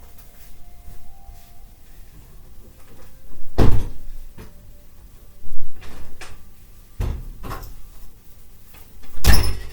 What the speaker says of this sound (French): Juste fermer les portes.